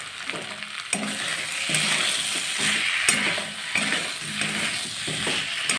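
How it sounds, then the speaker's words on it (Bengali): Fried pointed gourd (potol) pieces are sautéed with spices in a pan, with steady sizzling broken by repeated scraping strokes of a spatula stirring against the metal at an uneven rhythm. "ভালো করে কষিয়ে দিয়ে দেবো পটলগুলো ভেজে রাখা পটলগুলো দিয়ে দেবো"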